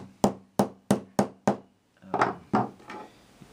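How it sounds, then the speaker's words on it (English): Light hammer taps seating soft metal frets into a psalmodikon fingerboard, five evenly spaced sharp strikes, a short pause, then four softer, slightly muffled taps, close and alone. "It doesn't take much work with the hammer. Pretty light tapping."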